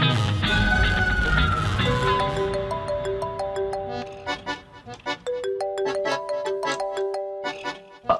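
Mobile phone ringtone playing a bright, repeating electronic melody of stepped beeping notes, loud and close, over fading background sound at the start, with no talking during the ring.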